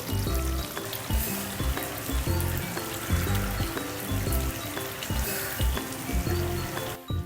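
Mutton sautés in ghee in a pan, giving a continuous sizzle beneath a loud, rhythmic low thumping backdrop.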